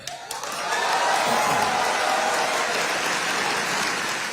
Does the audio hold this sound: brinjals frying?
no